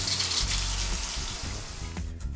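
Water runs steadily from a wall-mounted traditional bathroom tap into a basin, a continuous close splashing stream that carries on without pause across the whole clip, with a brief extra gush near the end.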